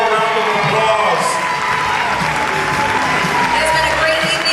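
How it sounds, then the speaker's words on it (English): An audience in the Scottish Rite Cathedral applauds at a pageant coronation: a sustained wash of clapping with scattered cheers and whoops, moderately loud and unbroken throughout. "Ladies and gentlemen, let's give them all a round of applause"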